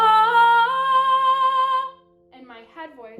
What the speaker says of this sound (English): So my chest voice sounds like this